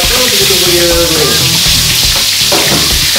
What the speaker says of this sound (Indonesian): next kita tumis bawang